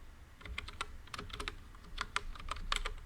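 Java code being typed on a computer keyboard, with quick irregular bursts of key clicks near and fairly quiet, no voice present.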